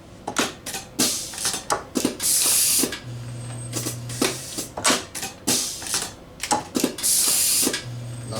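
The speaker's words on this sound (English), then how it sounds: "So I'm going to start the machine running." A CDSS UNI_CRN crimping machine feeds and crimps M39029/58-360 electrical contacts, producing a close, rhythmic series of mechanical clacks, ratcheting clicks and brief hissing bursts in repeating cycles.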